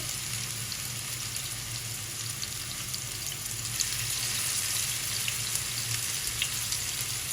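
Mutton burger patties, four at a time, fry steadily in a pan with a continuous loud sizzle and crackle, no talking.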